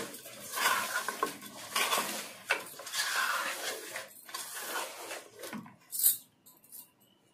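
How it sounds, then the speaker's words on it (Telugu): Spoon stirring and scraping through chicken gravy with ginger-garlic paste in a metal pot, continuous clattering and scraping strokes at close range with no talk. "ఇది బాగా కలపాలండి"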